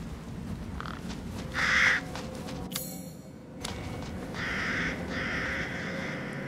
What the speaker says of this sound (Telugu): అరే కాకులు ఎందుకు పెడతారా గేమ్లో?